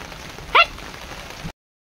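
Rain falls as a steady, soft hiss, with a brief sharp chirp over it partway through, before cutting off abruptly to silence.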